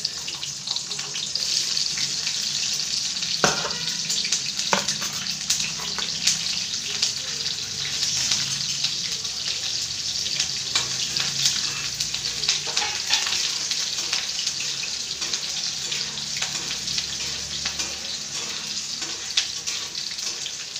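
Okra frying in a pan with garlic cloves and green chillies, a loud steady sizzle with scattered scraping and clicking as it is stirred, continuous and close, no voices.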